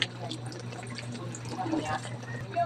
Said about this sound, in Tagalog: Dagdag tayo ng soy sauce,